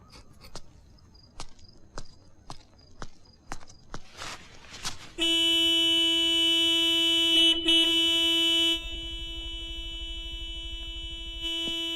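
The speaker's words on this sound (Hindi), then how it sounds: "इतनी जोर से हॉर्न मत बजाइए।" Several footsteps approach, then a loud car horn blares in a long sustained honk, dropping to a quieter held tone before ending.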